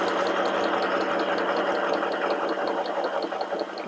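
A domestic sewing machine runs steadily while stitching fabric, a continuous close mechanical whir with a fine rapid needle rhythm, moderately loud and unbroken, no talking.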